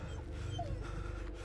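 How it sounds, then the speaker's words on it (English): A dog whimpers faintly in the horror video game Blair Witch, a single short whine rising over a steady low ambient drone, with no one speaking. "Dogs?"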